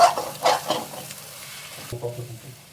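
Egg frying in a pan for egg rice, a spatula stirring and scraping in a few quick strokes over soft sizzling, then a single clack of the utensil and a fading hiss.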